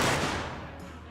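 A single rifle shot in a Civil War mod of Mount & Blade Warband, a sharp report followed by a fading rumbling tail, heard alone without talk.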